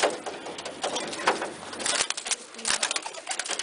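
Pigeon or dove being released from a box or cage, with bursts of wing flapping and scuffling close by, loud and irregular over a few seconds with no talk.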